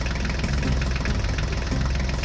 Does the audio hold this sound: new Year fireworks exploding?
no